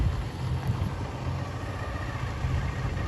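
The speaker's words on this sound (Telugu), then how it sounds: "చూడండి జేసీబీలు చాలా వేగంగా పనిచేస్తుంటాయి" JCB excavators working fast on a large open ground being cleared, with tractors hauling soil nearby; a steady mid-range engine drone with clattering runs continuously, fairly close and unbroken.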